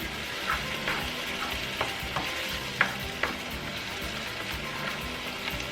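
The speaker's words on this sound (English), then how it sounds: "2 serranos or 2 jalapenos for more mild flavor. I'm going to stir those around." Serrano chiles and tomatoes fry in a pan for huevos rancheros, a steady close sizzle broken by a series of spoon scrapes and clacks at uneven intervals, with no talking.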